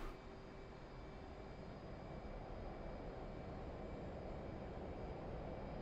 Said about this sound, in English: I'm going to apply full throttle and full afterburner.